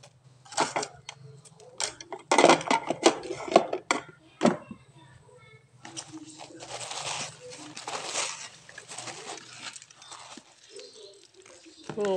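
Yellow velvetleaf (genjer) leaves being kneaded and squeezed with salt in a bowl, giving irregular close wet crunching, rustling and clinking against the bowl in bursts, with speech heard faintly over parts of it.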